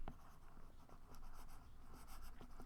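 A pen scratches out a short note, with soft, close strokes and taps in a quiet room, faint and steady for a few seconds.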